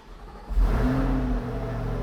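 A Corvette C8 engine cranks and catches, then settles into a loud, steady idle close by, with no talking over it.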